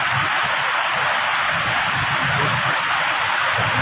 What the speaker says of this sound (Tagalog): Sobrang lakas ng ano, ulan.